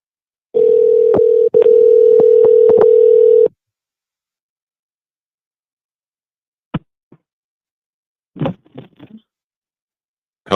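A telephone handset gives a loud steady dial tone for about three seconds, broken by key clicks, then falls silent before a few short, faint dialing beeps and clicks follow.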